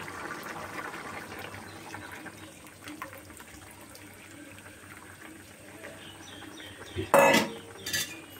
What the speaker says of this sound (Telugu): ఇప్పుడు పులుసు కూడా పోసుకున్నాను.